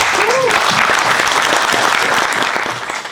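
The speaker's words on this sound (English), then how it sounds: "Round of applause, guys." An audience applauds steadily at a men's physique posing workshop, a dense wash of clapping that holds for a few seconds before tapering slightly.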